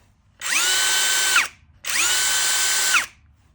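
An Eltos DA-16 BL brushless cordless drill-driver runs in two close, loud bursts of about a second each, with a whining motor tone that rises on start-up and falls as it stops, separated by a short pause.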